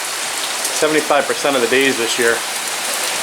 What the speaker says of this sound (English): Raining again. What's the odds of that?